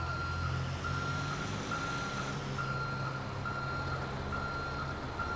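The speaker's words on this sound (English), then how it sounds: "And we are going to back this thing up." Reversing beeps from a utility bucket truck backing up in GTA 5, a steady evenly spaced series of about eight loud tonal beeps over constant engine rumble and road noise.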